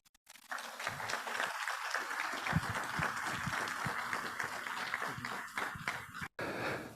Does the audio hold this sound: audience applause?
yes